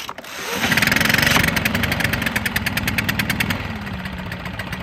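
A gas leaf blower, one of the BR800, EBZ8560 or EBZ8550 models, catches on a cold start and settles into a loud, close, rapidly pulsing two-stroke run that steadies as it idles, with no voices over it.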